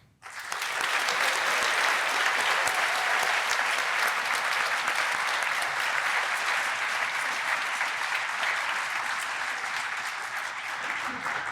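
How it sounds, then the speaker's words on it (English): Sustained applause from a large audience at a midyear college completion ceremony, a dense steady wash of clapping that swells quickly and holds for about ten seconds before easing slightly. "Could you please give a warm round of applause to our many colleagues"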